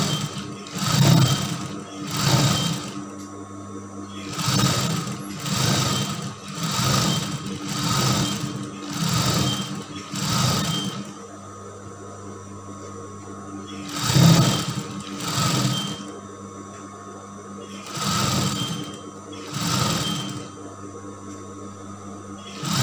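A sewing machine stitches a skirt ruffle, sewn twice, in a long series of short, even bursts close by, each lasting a second or two with brief gaps between.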